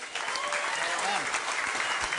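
Studio audience at a 70s-themed music quiz show gives a loud, dense round of applause with scattered whoops, continuous from start to finish.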